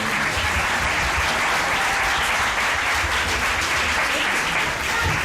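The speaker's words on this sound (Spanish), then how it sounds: "otro fuerte aplauso para Aymar" A studio audience gives sustained, loud applause for Aymar, a dense, steady wash of clapping lasting the whole stretch with no voices over it.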